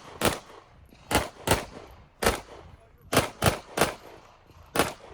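Pistol shots at a USPSA competition stage, about nine sharp, loud cracks fired in quick uneven bursts, some in rapid pairs, each with a short ringing tail outdoors.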